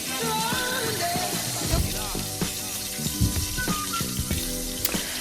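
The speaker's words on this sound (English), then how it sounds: "I love that sizzle sound when something is frying." Pork chops fry in a pan with a busy, crackling sizzle and some wet, watery sputtering, steady throughout, with a few sharper pops and faint tonal sounds mixed in.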